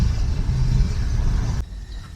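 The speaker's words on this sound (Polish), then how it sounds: "No ale w końcu jesteśmy na offroadzie i jedziemy przez środek pustyni." A car drives off-road across the Omani desert, its engine and tyres making a loud, steady low rumble that drops off sharply near the end of the stretch.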